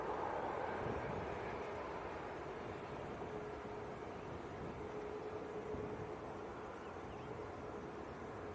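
Faint, distant drone of a British Airways Airbus A320neo at Manchester Airport, steady and low with a thin whine, no one talking.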